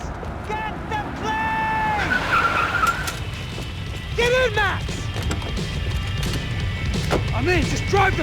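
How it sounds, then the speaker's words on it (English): Car driving and skidding in the video game Max Payne, with repeated sharp tire squeals over a steady engine roar and crashes, while voices talk over the action. "Just drive the fucking car!"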